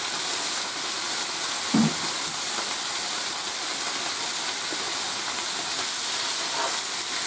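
Pork chops browning in a single skillet give a steady, moderately loud broadband sizzle that holds evenly throughout, with one brief clunk near the start and no voices.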